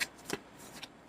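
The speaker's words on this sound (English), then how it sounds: "I'm going to shuffle just a few card decks" Tarot card decks being shuffled in a quiet room, with a few soft riffling bursts and a brief louder flutter partway through, then quieter shuffling.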